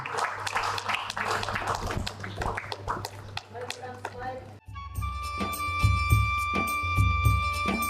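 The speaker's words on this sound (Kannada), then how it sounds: "ನಿಮ್ಮೆಲ್ಲರ ಜೋರಾದ ಚಪ್ಪಾಳೆಗಳ ಮೂಲಕ ಅವರನ್ನು ಅಭಿನಂದಿಸಬೇಕಾಗಿ ಕೇಳ್ಕೊಳ್ತಾ ಇದ್ದೀನಿ" Audience applause at a Kannada award ceremony, the Suchethana Sadhana Prashasthi tenth-anniversary event: a dense clapping burst for a few seconds with talk over it, giving way to music.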